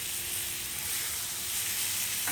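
Grilled chicken pieces sizzle steadily on a Blackstone flat-top griddle after being flipped, a dense, even frying hiss that stays loud and close throughout with no talking.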